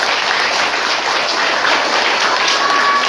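Sustained, loud applause from an audience at an Isra' Mi'raj religious gathering in a madrasah setting, steady dense clapping throughout with no speech over it.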